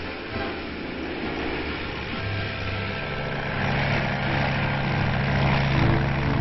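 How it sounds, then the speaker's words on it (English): A propeller-driven Army plane flies on after an air pickup, its engine a steady, loud drone with a rising, throbbing tone that builds slightly toward the end, heard alone without talking. "the Army plane completes its mission and returns to its base to await another assignment"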